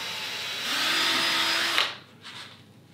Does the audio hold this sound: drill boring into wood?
yes